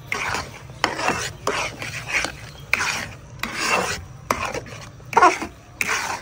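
Semolina with milk and sugar stirred in a pot for mohonbhog, a spoon scraping and rasping in repeated strokes of about half a second to a second, close and fairly loud with brief pauses between passes.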